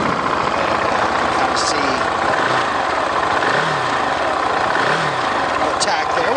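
The single-cylinder engine of a 2016/2017 KTM 690 Duke motorcycle idles steadily nearby with a few gentle throttle blips, while someone talks over it.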